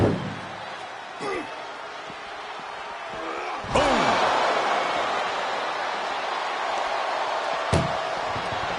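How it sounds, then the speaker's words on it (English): A heavy slam rings out in the middle, an ambulance door banged shut during a WWE wrestling video game ambulance match, with fainter thuds before and after over steady crowd noise. "Trying to at least slam one door shut"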